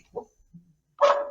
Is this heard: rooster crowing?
no